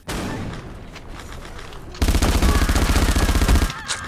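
Rapid automatic gunfire in a video game erupts midway as a loud, sustained burst of rattling shots lasting over a second, preceded by quieter game sounds and background noise.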